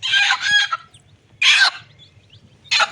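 A hen clucks in three separate bursts of busy clucking, close and fairly loud, with short quiet pauses between them and faint low background noise.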